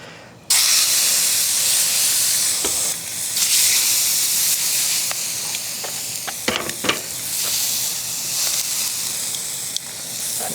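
Ribeye steaks searing on a Blackstone 20-inch camping griddle, a loud, broad sizzle and hiss that bursts in suddenly and holds steady, with a few soft clicks and scrapes over it.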